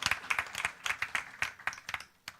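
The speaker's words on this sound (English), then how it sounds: "a big round of applause to these 3 people and their team members" A small audience applauds at a food science conference valedictory session, with sharp irregular claps from a handful of people close by, steady for a couple of seconds before trailing off.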